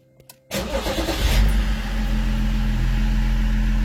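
A cold 2000s BMW 330d E46 diesel with over 400,000 km cranks briefly, catches with a loud rough burst and settles into a steady clattering idle, recorded close up with no voices.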